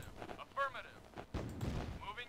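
Gunfire in the C&C Brotherhood 2 strategy game, a few heavy booming shots and thuds spaced across a short span, with game voice lines speaking over them.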